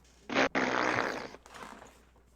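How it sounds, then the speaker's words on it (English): A loud, buzzy fart sound effect plays in two bursts, the second long and sustained, then trails off into a lingering reverberant echo. "You're telling me you don't have the fart noise with the reverb on it?"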